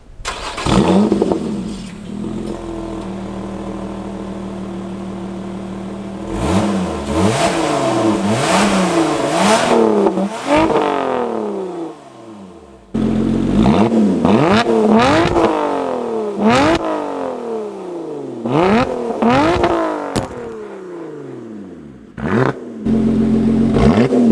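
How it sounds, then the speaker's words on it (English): Exhaust of a 2021 Lotus Evora GT revs hard again and again, sharp climbing blips and falling tails repeating loudly and close for over twenty seconds, with a brief drop to idle midway. "we have this exhaust, which sounds beautiful"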